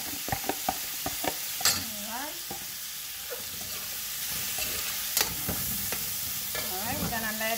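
Shrimp sizzle steadily in a hot pan for Haitian spaghetti while a utensil stirs and scrapes through them in irregular knocks, the frying hiss close and constant underneath.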